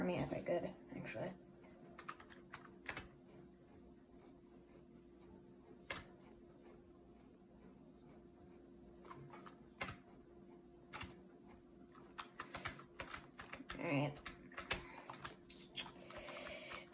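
Typing on a SteelSeries Apex 100 computer keyboard, scattered key clicks in irregular bursts over a steady low hum, fairly faint, with a few louder clusters of keystrokes.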